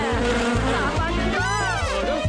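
A cartoon mosquito buzzes in wavering, rising and falling whines over a rhythmic music bed, loud and close.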